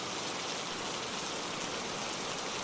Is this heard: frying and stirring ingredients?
no